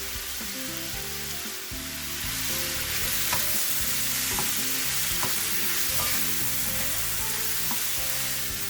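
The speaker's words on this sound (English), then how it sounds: "Next in, I'm going to add some of the small shrimps and some of the squid." Small shrimps and squid sizzling in a paella pan, a loud continuous frying hiss that swells after a couple of seconds and holds steady, with light stirring scrapes, close up and with no talk.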